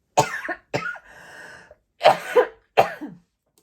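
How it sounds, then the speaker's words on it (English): Four sharp, close coughs in quick succession with a brief raspy throat-clearing between them. "Honestly, wasn't a single cough until I started talking."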